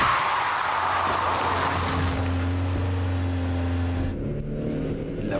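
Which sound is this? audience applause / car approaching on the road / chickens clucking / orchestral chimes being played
car approaching on the road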